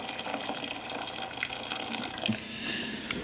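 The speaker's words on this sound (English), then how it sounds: "fill up the bottom of the uh, steamer with water" Water from a just-boiled kettle pouring into the bottom pan of a steamer in a home kitchen, a steady close gush with splashy texture running throughout.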